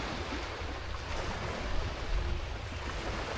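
Sea waves washing onto the shore at Mousuni Island, a continuous broad rushing surf with gentle swells, close and fairly loud, with some wind noise and no talk.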